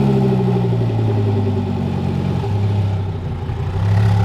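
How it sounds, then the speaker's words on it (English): A twin-turbo Lamborghini Huracan idles close by with a loud, steady low drone that dips briefly and then swells back up. "Twin turbo Huracan."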